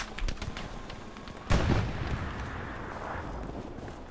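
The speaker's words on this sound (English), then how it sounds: "Getting shot at." Gunfire in the World War II shooter game Hell Let Loose, scattered distant shots followed by a sudden loud blast and a rumbling crackle of continued fire.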